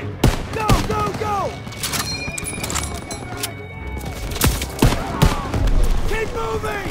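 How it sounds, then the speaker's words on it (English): Machine gun fire rattles from a barn in the Call of Duty: WWII Operation Cobra battle. Dense, sharp bursts of gunfire mix with sudden explosions, and shouting voices run underneath. "MGs in the barn!"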